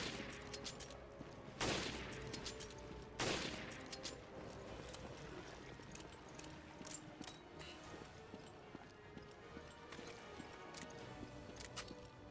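Gunfire in Resident Evil: Revelations, with two loud, sharp shots standing out early on over a busy game background of scattered clatter and softer repeated firing.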